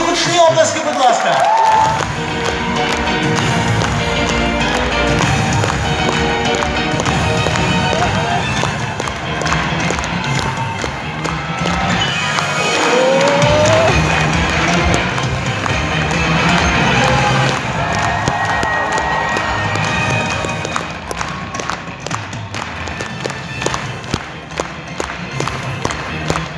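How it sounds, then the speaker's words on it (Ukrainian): Loud crowd cheering and applause fill a televised Eurovision 2019 national selection final in a concert hall, a sustained roar over music with shouts rising throughout. "І гучні, гучні оплески, будь ласка."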